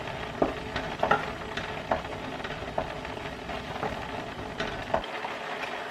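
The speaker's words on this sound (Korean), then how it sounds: "이제 졸이기만 하면 됩니다" Steady low bubbling and sizzling from tteokbokki simmering in a pan, with occasional soft taps, continuous and fairly quiet, no voices.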